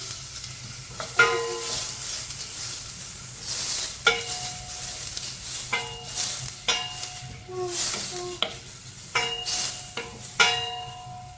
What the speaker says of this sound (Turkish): Şimdi soğanımı biraz kavuracağım.